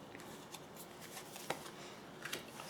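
Tarot cards shuffled and dealt out during a reading, soft faint papery riffles and brushes with a few sharper snaps of cards being laid down, close and quiet with no talking.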